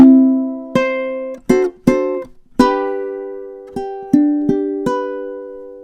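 Plucked ukulele notes and strums from measures 3 and 4 of a song's intro, in a slow, uneven rhythm, each attack ringing briefly and decaying, played alone and close.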